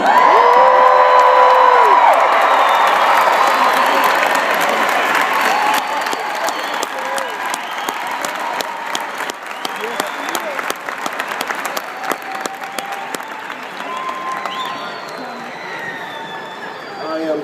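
A large audience at a rally for Rev. Jesse Jackson cheers, whoops and applauds loudly, the roar gradually easing into sustained clapping with scattered shouts over about seventeen seconds.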